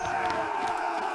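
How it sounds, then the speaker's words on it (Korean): A crowd of Joseon-era government soldiers raising a battle cry all at once outside, a brief, fairly faint burst of massed shouting voices. "밖에서 동시에 함성이 터졌다."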